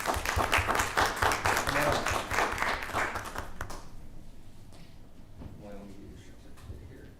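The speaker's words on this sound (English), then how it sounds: "Let's give Emily a round of applause" Crowd applause at a school district board of education meeting honoring a student of the month, dense steady clapping for about four seconds before fading into room murmur.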